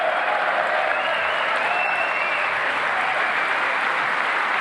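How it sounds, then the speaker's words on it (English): Sustained applause with cheering fills the hall at the 2018 State of the Union address, a steady wash of clapping from a large crowd. "And that's something to cheer."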